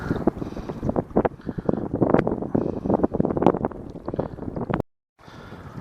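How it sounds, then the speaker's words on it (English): Wind gusts buffet a microphone on a rocky lakeshore. The blasts come in uneven, rumbling surges and cut out abruptly near the end before resuming briefly. "the wind is blowing into my face harder, which is bad for the audio"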